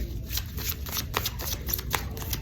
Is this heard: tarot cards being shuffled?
yes